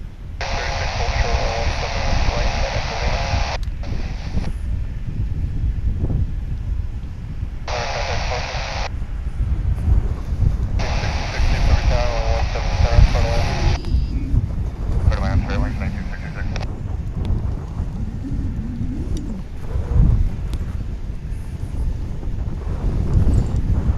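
Strong wind buffets the microphone at DFW International Airport, a steady low rumble throughout, with radio-like voices breaking in and out over it.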